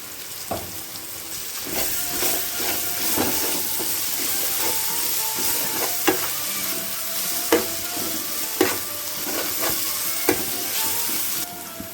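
Ginger paste frying in curry for egg biryani gives a continuous loud sizzle and hiss, broken by repeated sharp spoon clinks and stirring scrapes at irregular intervals.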